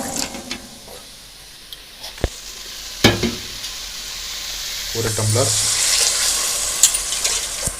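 Water poured from a tumbler into a pot of rice and vegetables for capsicum vegetable biryani, a steady splashing wash rising in the second half over a low stove hum, with brief clinks and a few spoken words.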